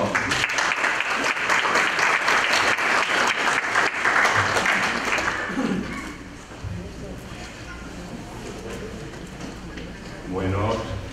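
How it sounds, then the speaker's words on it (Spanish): An audience at a big data analytics summit gives a loud round of applause for Alejandro, which fades after about five seconds into softer room noise and shuffling before a voice briefly starts up. "Un fuerte aplauso por Alejandro, por favor"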